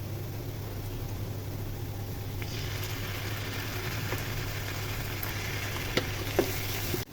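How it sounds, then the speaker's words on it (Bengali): Ginger and garlic fry in oil over already-browned onions for a tomato tengra fish bhuna; a soft sizzle swells louder partway through, with a few light utensil clicks. "পেঁয়াজ ভাজা হয়ে গেছে, এখন আদা রসুন দিয়ে ভেজে নিব।"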